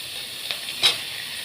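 Chicken pieces with onions frying in hot ghee in a pan, a steady close sizzle with a couple of brief stirring bursts.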